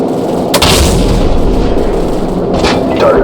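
Loud gunship cannon fire and heavy explosions rumble in the Call of Duty 4 aerial gunship mission, with booming blasts at about half a second and again near two and a half seconds over a continuous low roar.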